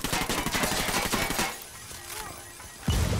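Gunfire rattles in the video game Ghost Recon Wildlands, then after a short lull a thrown grenade goes off in one loud, deep, close blast that ends the burst of action.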